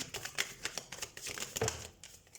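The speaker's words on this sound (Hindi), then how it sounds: "तो हम कार्ड शफल कर लेते हैं।" Tarot cards being shuffled make quick, light papery riffles and taps in short irregular bursts, close up and fairly quiet, with no speech.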